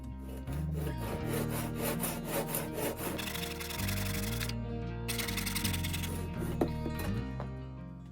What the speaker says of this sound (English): I'm going to take some measurements and cut it down into lots of smaller branches